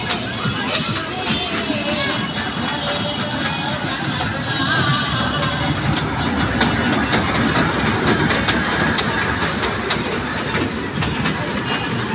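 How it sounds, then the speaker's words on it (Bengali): A dragon-themed ride train at a 2025 trade fair hums and rumbles steadily with a low engine drone and faint clicking, while crowd chatter and nearby voices talk over it throughout. "Dragon train."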